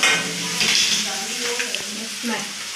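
Leftover rice with peas and potato frying in a pan, a loud continuous sizzle close up with stirring scrapes, and faint voices in the background.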